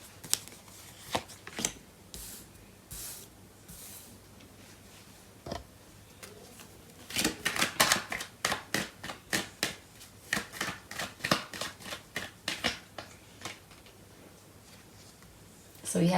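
Tarot cards being shuffled during a love reading, a series of quick riffling flicks and snaps, sparse at first and then dense bursts, quiet and close with soft talk between.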